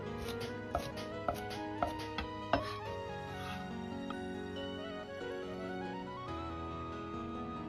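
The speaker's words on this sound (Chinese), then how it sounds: "再把青蒜苗改刀切碎" A knife chops green garlic sprouts on a board in five quick, sharp taps close by, then the chopping stops and only quiet background remains.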